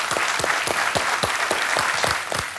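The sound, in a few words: studio audience applause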